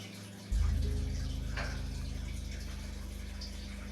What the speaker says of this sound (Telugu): ఒక చిన్న గ్లాసుడు వాటర్ పోసుకోండి